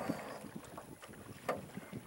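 Wind blowing across a fishing boat on open water: a steady breathy rush buffeting the microphone, with faint gusts and soft knocks, quiet and without talk.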